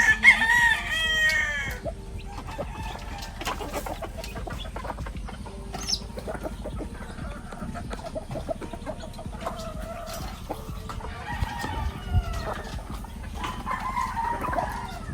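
A rooster crows near the start while a flock of chickens clucks steadily throughout, with repeated squawks and calls over a constant farmyard hum.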